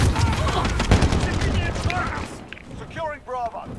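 Rapid bursts of automatic fire from a gold Holger light machine gun in a shooting video game at Shoot House, loud and dense, then thinning out as a voice talks over the end.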